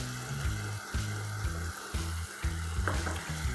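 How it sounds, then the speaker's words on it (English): Onion slices and julienned capsicum fry in masala for a one-pot Pakistani chicken handi, giving a close, steady sizzle with regular scraping stirs roughly every half second and no talk. "once the rawness of the masala is gone, I'm going to add some onion slices. And with that, some julienne of capsicum"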